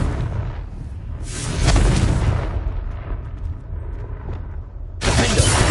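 A Confringo spell explodes in Hogwarts Legacy, a fiery blast with a crackling rush and deep boom, followed by a rumbling tail and a second burst near the end, loud and close with no talking.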